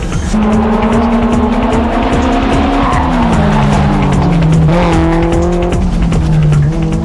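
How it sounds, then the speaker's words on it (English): Two race cars, a Mitsubishi Lancer and a Honda S2000, corner hard on a mountain touge road, with loud sustained engine drones shifting pitch and tyres squealing throughout, close and continuous, with no talking. "Orido uses the turtle start and leaves the S2000 behind. The Lancer is looking good with quick entry speed into the corner"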